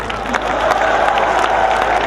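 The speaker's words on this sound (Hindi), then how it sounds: "बड़े शायर पर बड़ी तालियां देना" A live poetry-recital audience claps and cheers for a renowned poet, a dense steady wash of applause with crowd voices mixed in, holding loud and even throughout.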